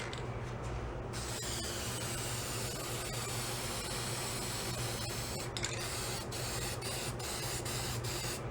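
An aerosol spray paint can lays a heavier second coat on parts of a worn-out Honda Trail 70 motorcycle, a steady close hiss that runs without a break and follows a few short clicks at the start.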